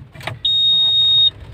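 Ignition key switched on in the upper cab of a Grove GMK 5130 130-ton mobile crane, setting off a steady, loud high-pitched electronic beep that holds for about a second after a brief click, over a low idle hum.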